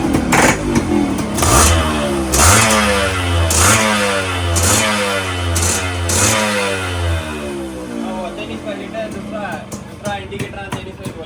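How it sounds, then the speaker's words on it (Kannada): A Yamaha RX100 motorcycle with a troubled silencer starts up and is revved repeatedly, its loud, close two-stroke exhaust rising and falling in pitch before settling toward a rough idle. "ಒಂದ್ಸಲ ಗಾಡಿ ಸ್ಟಾರ್ಟ್ ಮಾಡಿ ನೋಡೋಣ"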